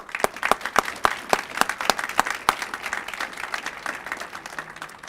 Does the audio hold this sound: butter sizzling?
no